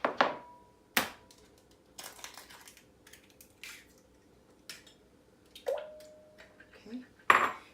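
Two room-temperature eggs are cracked one at a time into chocolate chip cupcake batter in a bowl, with sharp knocks of shell against the rim, wet squishes and small clinks of utensils spaced out over quiet gaps.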